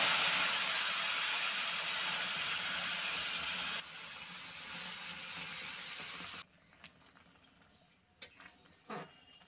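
Lentils hit a pan of fried onions, garlic and dried chillies in hot oil, producing a loud broad sizzling hiss that drops in level partway through, then cuts to quiet with a few soft clinks and stirring knocks.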